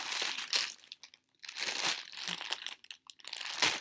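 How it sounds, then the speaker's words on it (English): Packaging around hand-dyed mini skeins of yarn crinkles and crackles close up, in several bursts separated by short quiet gaps. "Sorry, not sorry for the crinkling."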